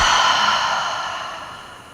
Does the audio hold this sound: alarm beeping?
no